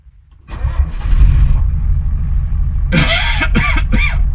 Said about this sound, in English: So what I shall do is give her a fire up, get her started